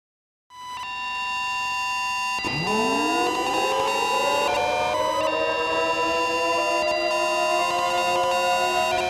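A loud electronic emergency alert siren from the National Emergency Alert System starts abruptly and holds, its tone sweeping upward then sustaining a wailing, layered pitch without any talking.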